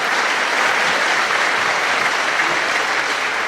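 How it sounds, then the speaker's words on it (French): Enthusiastic crowd applause at an outdoor festive day in Conthey, continuous and loud throughout with no talk over it. "Gros applaudissements, hein, parce qu'ils font beaucoup de kilomètres durant la journée."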